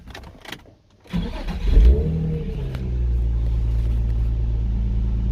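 Infiniti car engine cranks briefly, catches and starts, then revs up loudly and settles into a steady, slightly high idle, heard up close without talk.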